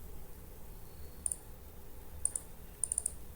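Crisp mouse clicks are made while designing holes in CATIA CAD software, coming as a quick double click, another pair, then a rapid run of four clicks, close and fairly faint over steady background hiss.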